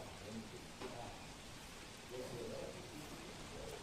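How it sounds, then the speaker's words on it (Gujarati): Heavy rain pouring down in Surat city, a dense, continuous hiss with scattered drops, steady and fairly quiet in level, with no other clear sounds. "સુરત શહેરમાં ધોધમાર વરસાદ વરસી રહ્યો છે"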